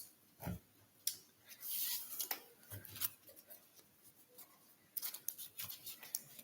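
Pokemon trading card decks shuffled by hand, giving quiet, irregular riffling and snapping card flicks in short bursts with pauses between.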